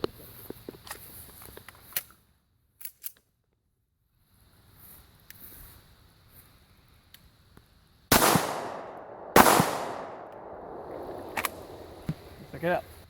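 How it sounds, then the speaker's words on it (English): Hornady Critical Defense rounds fired at a previously shot level 4 ceramic plate: scattered faint clicks and movement, then two loud, sharp gunshot cracks a second apart with ringing decay, followed by light handling noises. "Try some Hornady critical defense on this target next. We're going to see how they fare up against that level 4 ceramic plate."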